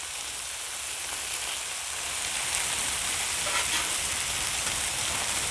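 Chicken and vegetables sizzle loudly on a hot griddle, a dense hissing crackle that swells slightly as pieces are flipped, close and continuous with no speech.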